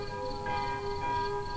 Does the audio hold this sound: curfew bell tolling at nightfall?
yes